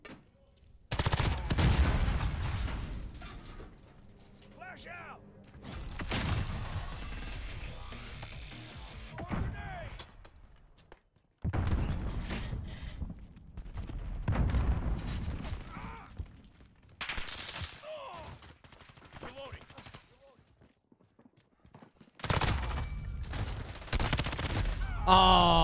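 Bursts of automatic and single-shot gunfire from the Call of Duty Modern Warfare beta, several separate volleys with short gaps between them, loud and close, mixed with game sounds and occasional voice.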